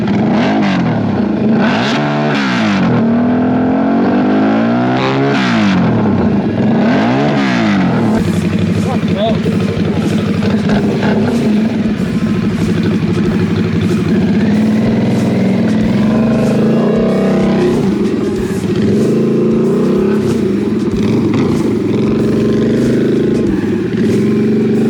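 A Harley-Davidson Nightster S motorcycle rides past and revs, its engine rising and falling in loud sweeps before settling into a steady drone, with voices talking over the engine noise.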